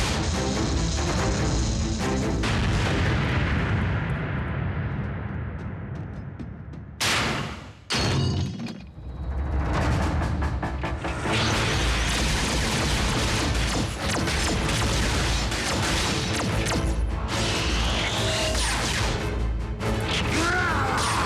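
Loud, dense blasts and crashing impacts from a Transformers Prime cartoon battle fill the scene almost continuously, with a sudden rumbling burst and brief drop near the middle before the heavy explosive roar resumes.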